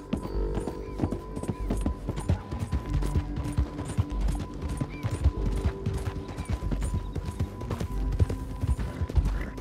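A horse gallops in the video game Red Dead Redemption 2, a fast continuous run of hoofbeats close up, with faint ambient background and no clear talk.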